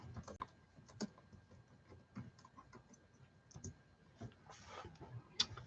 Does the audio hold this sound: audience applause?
no